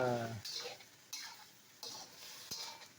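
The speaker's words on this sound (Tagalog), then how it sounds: "So igisa nyo lang po siya hanggang magkulay brown" Menudo ingredients sautéing in a pan, a soft frying sizzle broken by a few spoon-scraping stirs at steady intervals; no voices.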